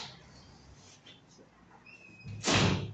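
A public library's entrance door swings and bangs shut near the end after a quiet stretch of room noise and faint movement, one short loud thud with a brief rattle.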